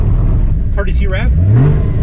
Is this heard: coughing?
no